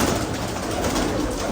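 Rampuri Cheeni pair pigeons cooing in a loft, a steady low murmur of several birds close by with no talk over it.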